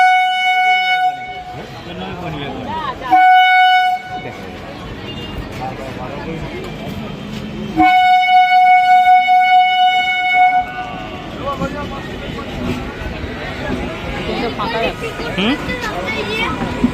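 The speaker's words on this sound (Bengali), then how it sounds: "এই এখন হচ্ছে আমাদের ট্রেন ঢুকে গেছে" A passenger train from Ranaghat to Lalgola pulls into a level crossing with the gate down, sounding loud horn blasts over rumbling wheels, with people talking nearby.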